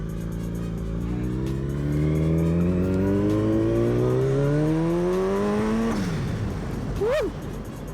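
A car just back from spark plug maintenance accelerates hard along a street, engine pitch climbing steadily through the revs before a brief drop and a short squeal, loud and close throughout.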